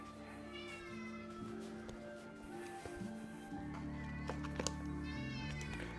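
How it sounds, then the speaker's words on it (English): A hungry cat meows repeatedly at close range, drawn-out rising and falling cries over a low steady hum, with no speech. "Very hungry cat."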